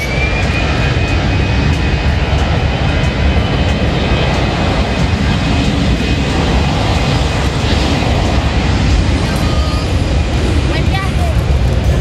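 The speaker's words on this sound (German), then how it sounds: "Und die Maschine hebt ab." A fixed-wing airplane roars loudly and steadily as it takes off, its engine noise filling the scene and staying close and constant throughout.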